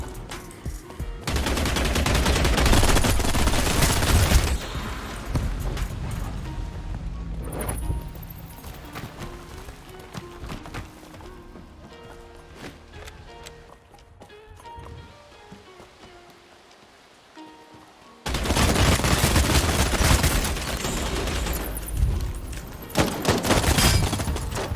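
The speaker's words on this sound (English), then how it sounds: "Remember, I said this gun gets more accurate the more I shoot, right?" LMG machine gun fire in the video game Bloodhunt: loud, dense bursts of rapid automatic shots, a long opening volley, quieter scattered fire in the middle, then another heavy sustained burst at the end.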